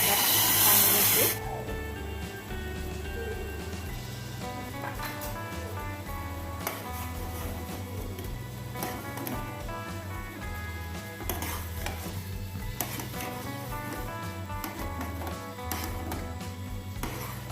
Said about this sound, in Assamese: এইফালে মোৰ চেনি পানীখিনি উতলি গ'ল